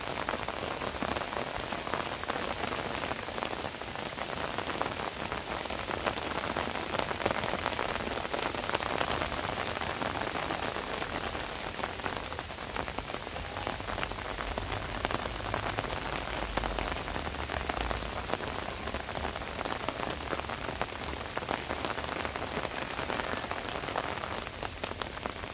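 Steady rain falls on a karonda bush, a dense, even hiss of drops pattering on leaves, continuous and close for the whole stretch with no voices.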